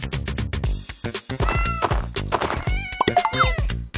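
Toy cat meowing in a play scene with a toy farm diorama, several meows rising over busy background music and clatter, fairly loud and close.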